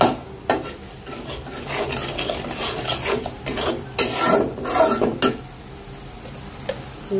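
Spice masala with salt is stir-fried in a pan for a light fish curry. A spoon scrapes and knocks against the metal in irregular bursts over a soft sizzle.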